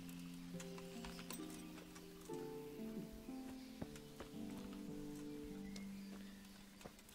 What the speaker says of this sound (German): Dann steigen wir mal eben ab, lassen wir das Pferd mal eben hier stehen.